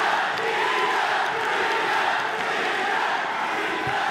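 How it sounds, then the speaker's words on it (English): A fight crowd raises a loud, sustained chant for fighter Danny Kingad, many voices roaring together in a steady swell that fills the arena throughout. "What we heard from the crowd there, that was the chant for Kingad."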